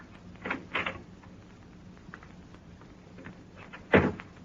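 Door opening in a 1940s old-time radio detective drama: a few soft knocks and shuffles, then one sharp clunk of the latch or door, with no voices.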